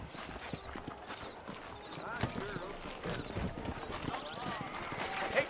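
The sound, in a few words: horses clip-clopping, Red Dead Redemption video game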